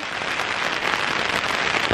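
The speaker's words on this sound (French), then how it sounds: "le parapluie n'aide pas des masses, la forêt ne sauve pas de la pluie" Heavy rain pelts an umbrella in a forest, a dense, continuous crackling patter of drops close overhead, steady and loud throughout with no voices.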